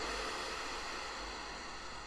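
Ocean wave sounds from the CardioZen heart-coherence breathing app play as a soft, steady surf wash, faint and continuous with no talking.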